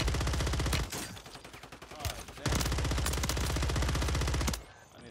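RAM 9 submachine gun firing in Call of Duty on Rebirth Island: two long, rapid full-auto bursts, loud and close, separated by a short pause with softer shots, ending abruptly as the magazine runs dry.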